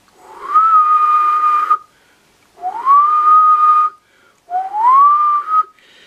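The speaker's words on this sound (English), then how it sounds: "a good idea when you want to test a microphone amplifier is to whistle to the microphone" Three clear, sustained whistled notes into a microphone, each sliding up then holding steady, with short silences between; loud and close.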